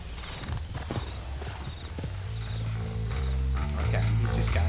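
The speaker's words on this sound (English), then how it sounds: "You mean my horse, which is right here?" Horse hooves clip-clop at a walking pace in the Red Dead Redemption video game, moderately loud and close, with a character's voice speaking over the hoofbeats.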